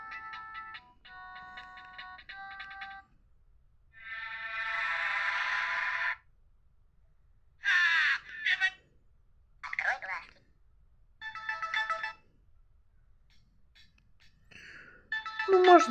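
A Nokia 150 phone plays a MIDI ringtone in short separate bursts of thin, tinny electronic tones, with quiet gaps between phrases.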